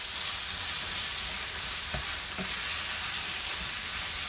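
Tagliatelle with vegetables stirred in a pan sizzles steadily in a broad hiss, with a few faint scrapes of the utensil against the pan.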